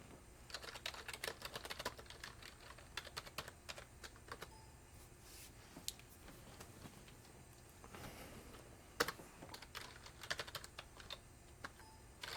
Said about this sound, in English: I'm typing wrong